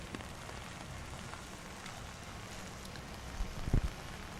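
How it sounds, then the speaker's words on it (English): Rain falling outdoors on a city street, a soft steady patter and hiss throughout, faint and fairly distant, with a couple of louder thumps near the end. "Rain started coming down a little heavier."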